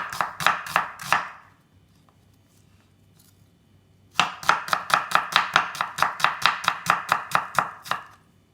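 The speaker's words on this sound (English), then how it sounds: "I am slicing onion thinly." A knife slices an onion thinly on a cutting board for sushi rolls: a quick run of crisp chops, a pause, then a longer steady rhythmic series of close, loud cuts.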